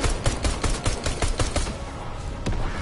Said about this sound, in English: A freaking dude is already shooting at me.